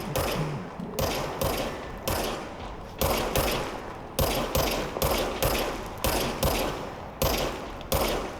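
Repeated shots from the service weapon in the game Control ring out at a steady rhythm, about one sharp, loud blast every second, each followed by a brief decaying tail, with no talking over them.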